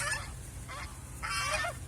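Geese honk in three short bursts over a steady low background rumble, fairly close and moderately loud.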